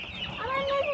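Chickens clucking nearby, a brief run of short clucks and a rising call, moderately loud against a faint background.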